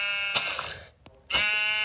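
Sheep in a Minecraft game let out two short, nasal electronic bleats with a brief pause between them, heard close and alone.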